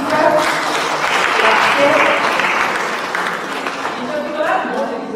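Audience applause at a book presentation, a steady wash of clapping throughout with a voice speaking over it.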